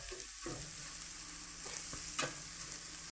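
Moringa leaf thoran with egg sizzles steadily in a pan while it is stirred, with a constant close frying hiss and a few soft scrapes, and no talking.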